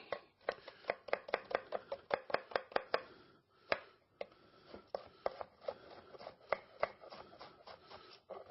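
A knife chops an onion on a cutting board in a catering kitchen: quick, close, crisp strikes in uneven bursts with short pauses, no talking.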